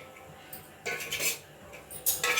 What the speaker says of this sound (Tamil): இப்போது கேஸில் கடாய் வச்சுருக்கேன் பற்ற வைக்கிறேன் இப்போ அதில் காஞ்ச மிளகா வேர்க்கடல உளுத்தம்பருப்பு போட்டு